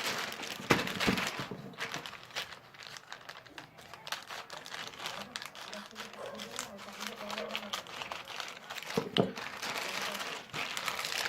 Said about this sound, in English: let me just quickly open the plastic wrapper